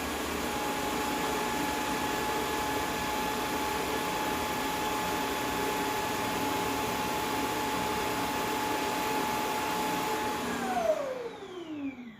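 A Shark IQ robot vacuum with self-emptying bin runs steadily, its loud motor whine and airflow holding constant before winding down in pitch near the end.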